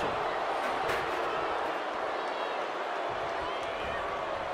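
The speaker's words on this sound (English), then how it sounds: "And you hear the crowd letting them know Rhea and Liv are truly delivering something" A wrestling arena crowd roars steadily through a Liv Morgan versus Rhea Ripley match, a dense, continuous wash of cheering with no clear breaks.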